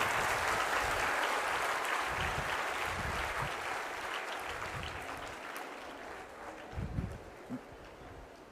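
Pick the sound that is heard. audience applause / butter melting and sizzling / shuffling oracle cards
audience applause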